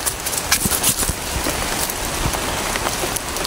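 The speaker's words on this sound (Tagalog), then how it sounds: "Lakas ng ulan." Heavy rain in a horror video game pours steadily, a dense hiss of drops striking surfaces with occasional sharper splatters, loud and continuous without voices.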